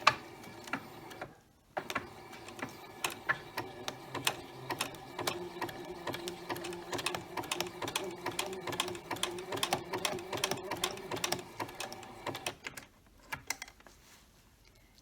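A sewing machine runs a zigzag stitch along leaf veins on a batik quilt. It gives a quiet, steady, rapid ticking for most of the stretch after a brief pause near the start, heard close with no talking.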